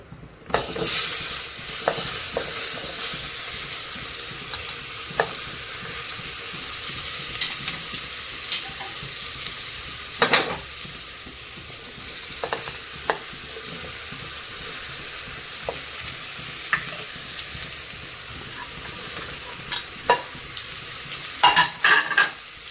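Vegetables with pav bhaji masala sizzle steadily in a pan, with occasional clanks and scrapes of a spatula stirring them close up, and no talking.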